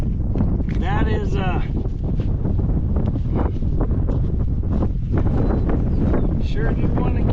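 Steady gusting wind roars across an outdoor microphone on a farm field, a constant low rumble with buffeting bursts throughout.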